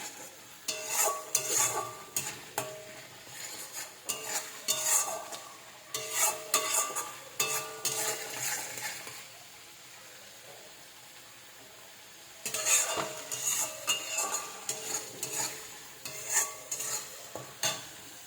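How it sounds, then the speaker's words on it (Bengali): A spatula stirs spice masala and potatoes in a pan, making repeated bursts of scraping over a soft sizzle, with a long pause midway before the stirring resumes. No one talks. "মশলা কষা হয়ে গেছে। এবার আলুগুলো দিয়ে দিলাম।"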